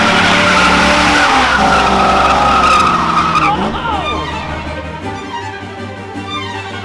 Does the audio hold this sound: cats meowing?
no